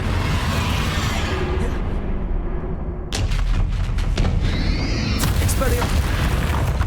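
Booming blasts from the Bombarda explosion spell in Hogwarts Legacy, a dense roaring explosion followed by a run of sharp, loud concussive hits and crackling debris, with game voices briefly mixed in.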